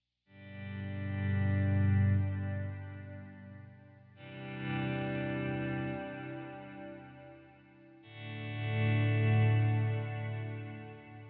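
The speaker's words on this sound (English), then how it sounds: "It's just a good overall reverb and delay setting" Sustained electric guitar chords ring through a Strymon Timeline delay and BigSky reverb, three long swelling notes that bloom and fade into washy, echoing tails, loud and alone without talk.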